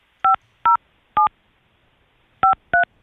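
Five touch-tone DTMF beeps from a phone number being dialed, each short, clean and evenly loud, in an uneven rhythm with gaps between groups, heard alone with no talk.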